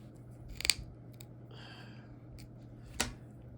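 Scissors snip beading thread, with two sharp close clicks about two seconds apart and a faint rustle between them in a quiet room.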